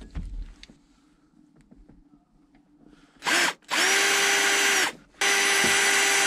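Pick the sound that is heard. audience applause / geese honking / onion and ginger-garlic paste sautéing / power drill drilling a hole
power drill drilling a hole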